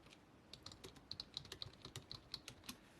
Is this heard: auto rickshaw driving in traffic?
no